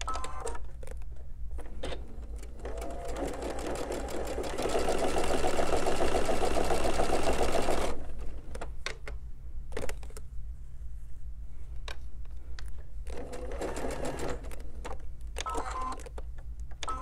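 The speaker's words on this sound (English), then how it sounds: "sew a quarter of an inch seam. I'm going to chain piece these" A sewing machine chain piecing quilt blocks with quarter-inch seams runs in a steady mechanical whir, louder for a few seconds in the middle, with lighter clicks and handling noises before and after.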